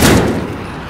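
A single gunshot fired through a wall in a shooter video game lands as one loud, close, muffled boom with a rumbling tail that fades away, without any talk.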